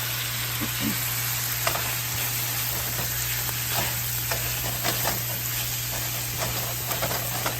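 Ground beef fries in a pan for spaghetti sauce, giving a continuous close sizzle and hiss broken by scraping, stirring strokes at an uneven pace, over a low steady hum.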